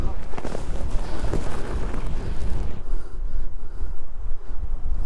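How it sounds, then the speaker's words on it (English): Strong breeze blowing across Bowscale Tarn high on a Lake District fell, loud gusty rumble pummelling the microphone, easing slightly toward the end, with no speech. "As you can probably hear, it's quite breezy."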